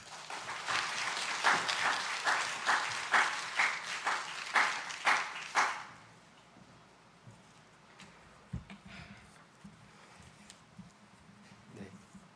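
Church congregation applauding a pastor during a Korean worship service: a burst of rhythmic, fairly loud clapping with regular swells for about six seconds, then fading to a quiet room with scattered small knocks.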